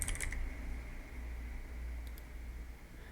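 Fingers tap quickly on a computer keyboard in a short burst of close, light clicks, then a couple more taps over a quiet fan hiss.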